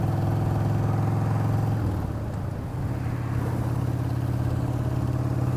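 Motorcycle fitted with a Hammer Performance 1250 engine kit revving close up, a loud steady drone that drops briefly and climbs back to a sustained higher pitch, with no talking.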